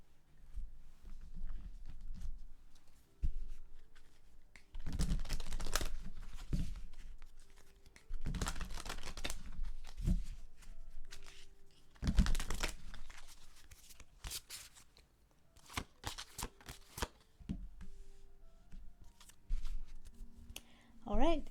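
Tarot cards are shuffled and drawn in several crisp riffling bursts, with soft flicks and taps between them, as a reader talks in the background.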